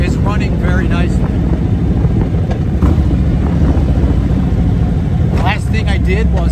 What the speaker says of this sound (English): The bike is running very nicely.